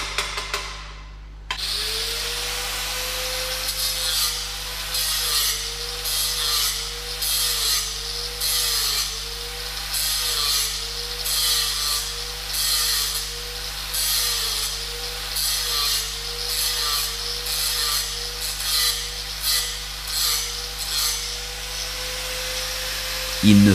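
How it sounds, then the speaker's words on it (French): A grinder bevels the end of a weld bead on a flat butt joint. Its motor whines steadily, and rhythmic grinding strokes repeat about once a second, close and fairly loud. "il est nécessaire de meuler la fin du cordon en biseau comme pour un point."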